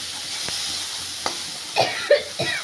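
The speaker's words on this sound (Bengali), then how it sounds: "পেঁয়াজ ভাজা হচ্ছে" Onions fry quietly in a pan for street-style chicken chow mein, with a soft, steady sizzle and a few scraping stirs and knocks near the end. No one speaks.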